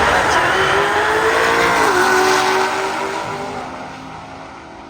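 An orange Lamborghini races at a roll racing event, its engine note climbing loud and close under a broad roar of wind and tire noise, then dropping and fading steadily as the car pulls away.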